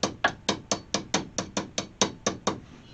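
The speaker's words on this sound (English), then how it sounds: "ball peen that's not got a real tight curve." A ball peen hammer taps stainless steel hood trim from a 1968 AMX twelve times in a steady rhythm, each strike a close, bright metallic tap with a short ring, with no speech.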